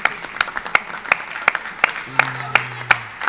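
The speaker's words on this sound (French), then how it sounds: "Bravo, on peut les applaudir." Spectators at a P2000 padel tournament in Lyon applaud the players after the match with sparse, separate claps from a small crowd, steady but uneven, while a voice speaks over them partway through.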